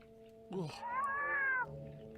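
Cats in a Christmas film let out one drawn-out, loud meow with a rising-then-falling pitch, preceded by a short yowl, heard up close over a faint background.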